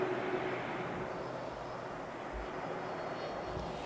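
A widebody airliner powered by GE CF6 jet engines at London Heathrow gives off a steady, distant roar of engine noise that stays even and unbroken throughout.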